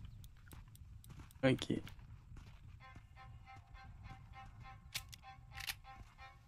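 A donkey's hooves clip-clopping in the Red Dead Redemption video game: a few quiet hoof clops and some clicky sounds, with someone speaking briefly over them.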